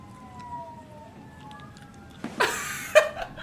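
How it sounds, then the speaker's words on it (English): Police sirens wail faintly in the distance with a gliding, rising and falling tone, followed by a few sharp, louder clattering bursts toward the end. "Immediate police sirens."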